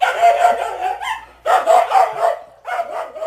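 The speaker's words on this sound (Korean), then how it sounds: "개는 큰 소리로 짖으며 마키나새를 향해 달려갔다" A loud, close dog barks in three long, rough bursts with short gaps between them, used as a sound effect in a narrated folk tale, with no voices over it.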